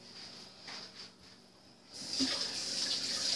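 Tap water starts running into a sink during washing up, first faint handling sounds, then a steady hiss of flowing water that grows louder and continues to the end.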